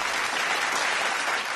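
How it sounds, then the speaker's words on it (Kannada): A studio audience on a TV game show breaks into a short, dense burst of clapping, loud and even throughout, with no talking over it. "ಚಪ್ಪಾಳೆ"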